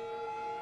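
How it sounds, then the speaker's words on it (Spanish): A fire truck siren in the Cities: Skylines city-building game wails as a steady, loud, sustained tone filling the whole short moment, with no talk over it. "Que encima es un camión de bomberos."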